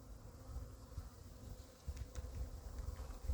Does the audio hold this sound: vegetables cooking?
no